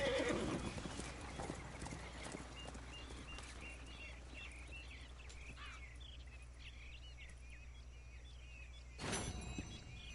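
A horse in the video game Red Dead Redemption 2 whinnies loudly up close, then hooves clip-clop over a quiet night background of insects and crickets, with another neigh near the end.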